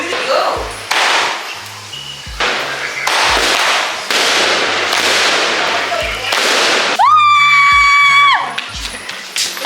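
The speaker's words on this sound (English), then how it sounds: "Now is the main bomb." Diwali firecrackers burst in a string of sharp, loud bangs close by, one after another, and a shrill whistling rocket rises near the end, with people shouting faintly under the noise.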